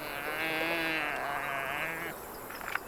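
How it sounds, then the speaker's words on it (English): A wildebeest in a hunting game gives a long, sheep-like bleating call up close, wavering for about two seconds before fading into quieter background sounds. "I wasn't expecting the wildebeest to sound like a sheep"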